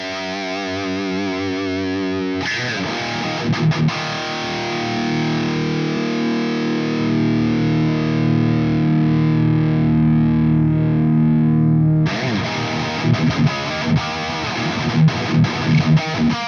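Electric guitar played through a Sonulab Stompstation NAM-capable pedal with its low cut pushed to the extreme, chugging distorted riffs and sustained chords with abrupt stops, loud and upfront with no talking.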